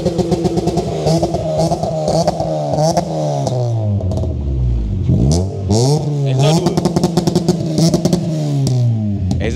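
A Mitsubishi Lancer 2.0 with CVT and twin exhaust revs repeatedly nearby, its engine pitch rising and falling through several sweeps with a steady low rumble between blips.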